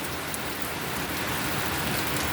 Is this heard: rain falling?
yes